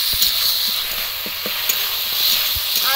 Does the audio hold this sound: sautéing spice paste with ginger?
yes